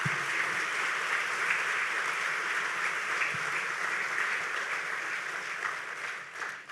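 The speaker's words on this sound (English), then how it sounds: "give a big round of applause to our business sponsors and iChurch staff" Audience at a leadership conference breaks into sustained applause for business sponsors and church staff, a dense, steady wash of many hands clapping that holds loud throughout and tapers slightly at the end.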